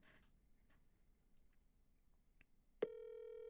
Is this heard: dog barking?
no